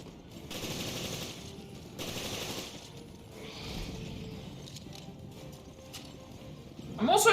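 Automatic gunfire from a machine gun in the video game Resident Evil Revelations, bursts coming in a few bands of repeated shots under game ambience, with a louder sharp burst at the end.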